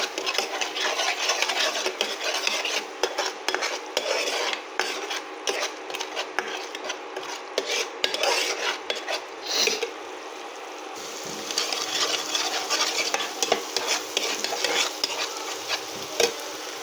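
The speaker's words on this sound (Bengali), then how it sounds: "ভালো করে মশলাটা মাখিয়ে নেব।" Masala being stirred and mixed into rui fish in a pan, a steady scraping, rubbing stir with light sizzling underneath, continuous and close with brief pauses, no talking.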